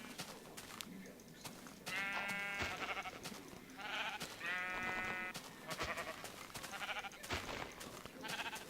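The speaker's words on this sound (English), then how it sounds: "I just killed that black sheep for no reason." Sheep in the video game Minecraft bleat in several short, wavering calls spread over a few seconds, moderately close against quiet game ambience with faint clicks and no talking.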